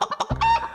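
A hen clucks and cries out in a few quick, close squawks, ending in a longer drawn-out call.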